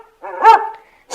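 A single loud, close dog bark with a rising and falling whine, staged as a sound effect in an audio drama dramatisation, followed by the start of another sound.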